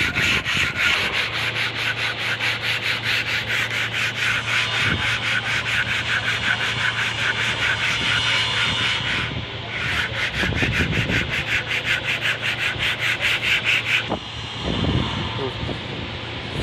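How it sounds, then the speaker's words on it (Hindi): Painted wood being sanded by hand with 100-grit sandpaper, a loud steady rasp of quick back-and-forth strokes that briefly pauses twice before resuming. "सूखने के बाद इसमें 100 नंबर रेगमाल से कटाई करेंगे इसकी।"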